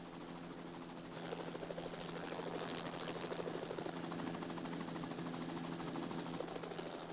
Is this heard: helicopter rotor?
yes